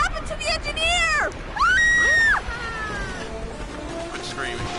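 Video game screaming from Red Dead Revolver, a series of sharp, wailing, shrill cries that rise and fall over about two seconds, loud and close, with background game noise.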